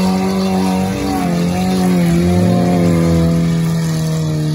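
An off-road trophy sprint car engine revs hard up close, its loud roar rising and falling in pitch as the throttle is worked, sustained for several seconds while the tyres fail to grip.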